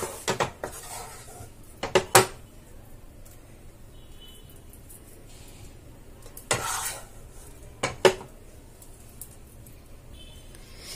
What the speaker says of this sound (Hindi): अब इसे हम बाउल में ट्रांसफर कर लेंगे।